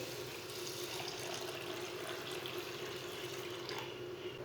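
Water runs quietly and steadily into a pot of cleaned mash lentils, a soft, continuous pouring hiss with no talk over it.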